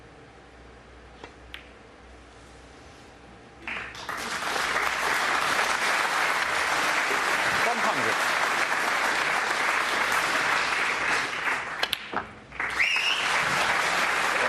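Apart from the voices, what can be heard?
snooker audience applause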